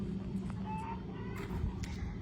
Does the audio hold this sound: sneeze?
no